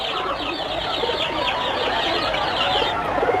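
Lovebirds in a film scene give a dense, continuous stream of close, bright chirps and cooing calls over a steady background.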